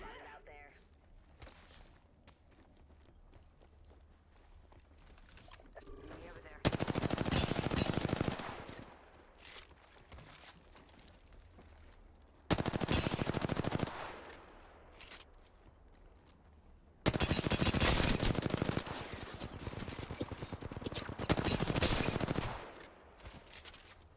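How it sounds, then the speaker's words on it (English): Gunfire in the video game Apex Legends comes in three long, loud bursts of rapid automatic fire, with quieter footsteps and movement between them and a commentator talking throughout. "they're getting some shots up right now. Shots popping off"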